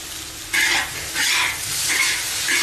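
Noodles with bean sprouts stir-fried in a pan in a home kitchen, giving bursts of sizzling and scraping stirs that come and go in steady waves, close and fairly loud with no talking.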